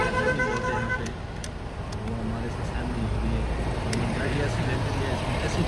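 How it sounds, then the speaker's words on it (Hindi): Heavy road traffic on the route to Kedarnath, a dense steady roar of engines with scattered car horn toots, continuous and close, with voices mixed into the din. "इससे ज़्यादा इतना तो ट्रैफिक।"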